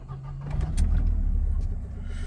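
A Mercedes SLK 200 R170 engine cranks and catches, settling into a steady low idle close by after a brief starter whir.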